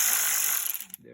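Ratchet wrench loosening hex bolts on a BMW Z4 air inlet, a brief close-up burst of rapid clicking that stops abruptly.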